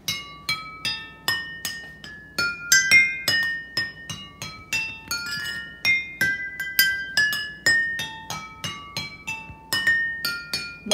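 Water-filled drinking glasses of a homemade water xylophone struck one after another, a steady run of bright ringing clinks at varying pitches forming a simple tune, close and clear with no talking.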